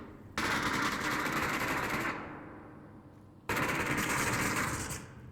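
Sustained automatic gunfire in the VR shooter Onward during a competitive match, two long loud bursts of rapid fire separated by a short gap, with a fading tail after each burst.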